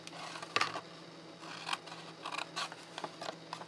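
Scissors cut through card for a Ferrero box in a series of faint, close snips, some single and some in quick pairs, with brief pauses between them and no talking.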